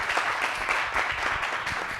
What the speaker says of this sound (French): Est-ce que ça s'applaudit pas, ça?